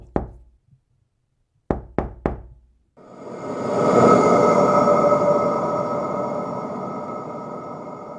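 Sharp knocks on glass, one alone and then a quick run of three, each crisp and close, followed by a swelling rushing roar that fades slowly.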